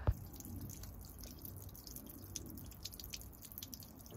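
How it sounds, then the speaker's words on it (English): Rainwater drains from the hull of a salvaged welded boat in faint, irregular drips and a light trickle, quiet and close, with no talking. "Let's step back here and see how much water comes out right now."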